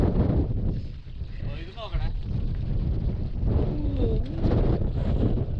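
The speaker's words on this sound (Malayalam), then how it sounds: "എന്നാ സൗണ്ട് കാറ്റിന്റെ സൗണ്ട്" Strong wind roars steadily across an exposed mountain ridge above a deep gorge as fog rolls in, a loud, unbroken rush of buffeting gusts with brief voices heard under it.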